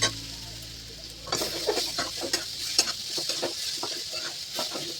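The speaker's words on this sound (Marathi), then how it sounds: "वाटण पण तेल सुटेपर्यंत परतून घेतलं." Ground masala paste stir-fried in oil for a potato dish, a soft sizzle under repeated scraping and stirring strokes in an irregular rhythm, close and moderately loud.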